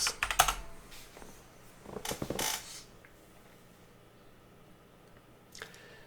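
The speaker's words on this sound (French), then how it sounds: "si on tape Digital Art" Close keystrokes clatter on a computer keyboard in two short quick bursts, then the room goes quiet apart from a single soft click near the end.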